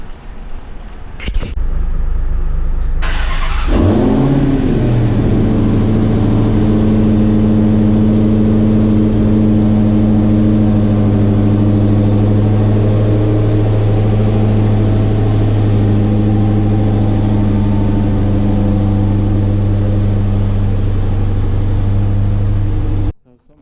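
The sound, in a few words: Dodge Challenger Hellcat Widebody engine starting and backing out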